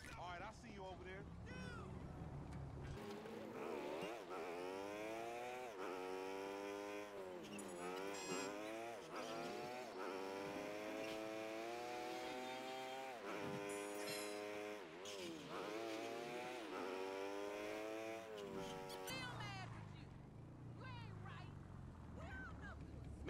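A motorcycle ridden in GTA V on PS4 roars and revs steadily with rising and falling engine pitch, loud and close throughout with brief background noise at the start and end.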